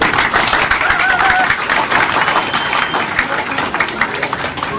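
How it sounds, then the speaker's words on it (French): Audience applause at a pan-Africanist gathering, a broad sustained roar of many hands clapping, loud and steady with a few voices rising in it. "Applaudissez-vous s'il vous plaît."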